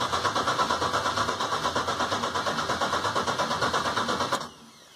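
A Box Chevy engine cranks over in a steady, rapid rhythm of starter pulses for about four seconds, loud and close, then cuts off abruptly into quiet without catching.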